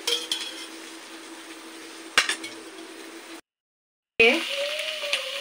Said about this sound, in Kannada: ಎಣ್ಣೆನ ಆ್ಯಡ್ ಮಾಡ್ತಿದ್ದೀವಿ. ಚೆನ್ನಾಗಿ ಫ್ರೈ ಮಾಡ್ಕೊಳ್ಳಿ.